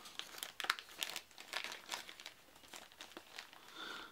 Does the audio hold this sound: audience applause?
no